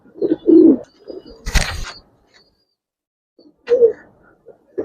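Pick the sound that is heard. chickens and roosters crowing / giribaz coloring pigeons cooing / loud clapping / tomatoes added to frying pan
giribaz coloring pigeons cooing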